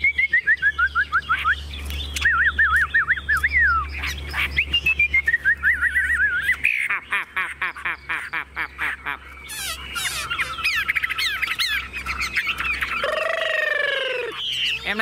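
A buttonquail in a hand-held cage gives rapid repeated whistling and honking calls, close and loud, with fast clicking bursts in between and cage rattling.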